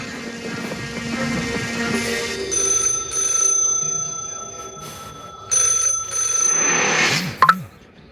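A telephone rings with a repeated electronic tone, fairly close, followed by a few soft knocks and a brief clatter at the end.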